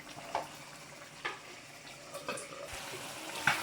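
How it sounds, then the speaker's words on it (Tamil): Chicken kurma in a pot is stirred with a spoon, giving a few soft wet scrapes and clinks spaced about a second apart over a low simmering hiss. "இப்போ மூடி எடுத்துக்கிட்டு ஒரு வாட்டி கூட கிண்டி விட்டுறோம்"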